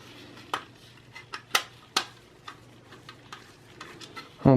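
Screws are installed in a Lenovo ThinkCentre M92p desktop computer, producing sparse, sharp metallic clicks and ticks at irregular intervals, close and fairly quiet, ending with a louder clunk.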